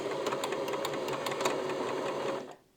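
A sewing machine stitching a buttonhole, moving from the front bar tack up the left side with a fast, even mechanical whir and rapid needle ticking, close and steady before it stops at the end.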